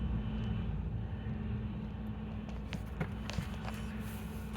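Boeing 777 airliner at Toronto Pearson airport, a steady low engine roar rumbling continuously with faint scattered taps and clicks nearby.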